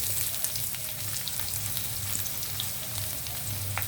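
Onions and tomatoes fry in a pan for a potato and drumstick curry, a steady crackling sizzle with scattered pops and occasional stirring scrapes, close and unbroken, with no talking.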